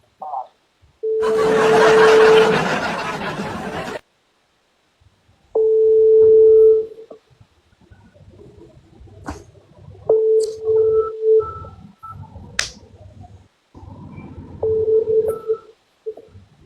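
Telephone tones during a call: a long loud burst of noisy signal, then a series of short steady beeps and tone pulses separated by gaps, close and clear.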